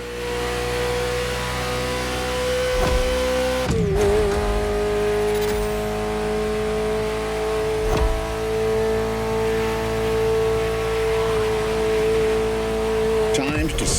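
Ferrari F40 supercar engine in the racing game The Crew Motorfest, a steady loud drone holding one pitch, with a brief rev dip near the start and a few sharp transient clicks across the run.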